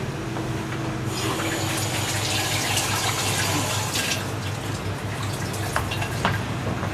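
A jar for lavender syrup is washed under a running tap, with a steady close gush of water splashing into a sink and shifting as the jar moves through the stream.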